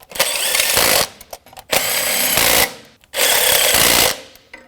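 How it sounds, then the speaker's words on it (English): Bolts being snugged down on the knock sensors of a 2011-2016 Ford F-350 with a 6.2L V8, heard as three loud, sustained bursts of a power ratchet or impact driver with short pauses between them. "Snug these bolts up."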